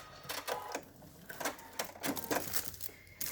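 A sewing machine back stitches through a crinkle-plastic lap pad block, giving short bursts of rapid mechanical stitching in a quick stop-start rhythm, close and moderately loud.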